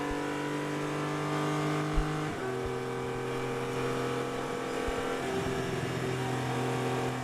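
A race car of Scott Graham's at the Atlanta SpeedTour vintage racing event drones steadily with a shift in engine pitch partway through, heard from a moderate distance and alone.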